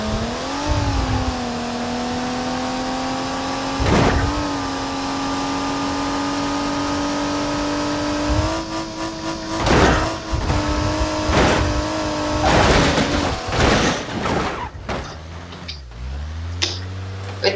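An Ibishu Diadem drives in BeamNG Drive, its engine droning steadily and rising and falling with revs, broken by several sharp bursts and clunks, with a quick run of rev changes near the end.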